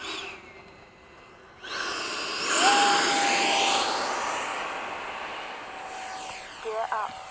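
An FMS 70mm F/A-18 radio-controlled jet with an electric ducted fan rises into a loud whine as it accelerates past on a flight at an outdoor field, then fades off into the distance, with a short beep near the end.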